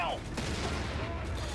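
Gunfire strikes a tank during a battle in the Company of Heroes 3 video game, a dense rattling fusillade with booming impacts that fills the whole moment, loud and continuous.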